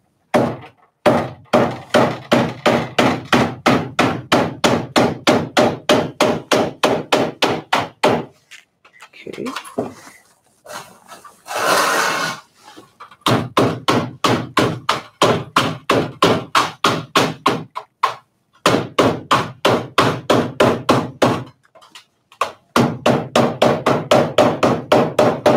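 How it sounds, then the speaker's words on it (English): Rapid, loud hammer blows strike in long rhythmic runs, each burst a string of sharp close impacts, broken by brief pauses and a short stretch of shuffling handling noise. "Hammer."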